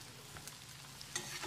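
Grated coconut fries in oil toward crispness, heard as a faint, low, steady sizzle with a few soft stirring ticks.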